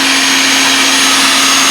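A small add-on high-speed motor, spinning around 20,000 to 25,000 RPM, drives a small cutter on a milling machine, giving a loud, steady, high-pitched whine close by with no talking.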